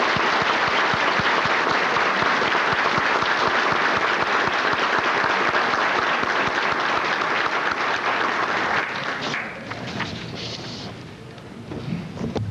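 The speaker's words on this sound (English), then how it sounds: "So let's give them a great round of applause." A banquet crowd of the HOACGA association applauds at its 1998 anniversary dinner: dense, loud clapping that continues for about nine seconds before thinning out, with a few scattered claps and faint room murmur remaining.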